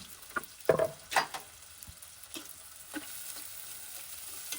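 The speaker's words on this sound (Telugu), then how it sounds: "ఇప్పుడు ఇందులోకి 2 మీడియం సైజు ఆనియన్స్ ముక్కలను వేసుకుందాం" Two medium onions, cut into pieces, and three green chillies fry in hot oil for a fish curry. A few sharp scrapes and clinks of stirring stand out early over a low, steady sizzle, close and with no talk.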